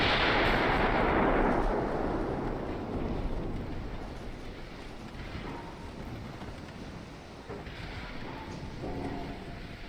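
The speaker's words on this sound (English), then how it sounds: "I want you guys to shoot at those destroyers." Naval guns fire at destroyers in a sea battle video game, a heavy booming blast opening loud and rolling off into rumbling echoes, with softer further reports following.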